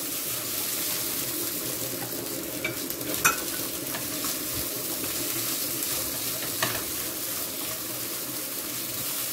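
Spices toast together in a frying pan for a fried-chicken seasoning blend, with a steady soft sizzle and a few sharp clinks as a utensil stirs them.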